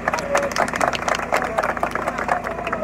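Audience clapping for young performers, with a dense patter of hand claps and crowd noise running steadily throughout.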